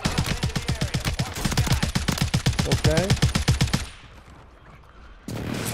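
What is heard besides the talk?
thermite explosions and gunfire in Call of Duty video game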